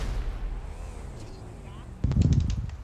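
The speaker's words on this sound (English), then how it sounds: "You put a sticky bomb down." A sticky bomb detonating in a video game, a loud, sudden blast that cuts in partway through and rumbles on to the end, following a stretch of quieter game background.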